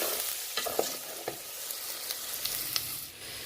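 Chicken sizzles as it is sautéed in a pan for palak chicken, with soft, irregular stirring scrapes and clicks over a constant, moderate frying hiss.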